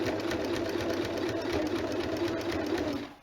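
A sewing machine runs continuously, stitching a jersey neckline on a jersey top with a rapid, even mechanical whir up close, then stops abruptly at the end.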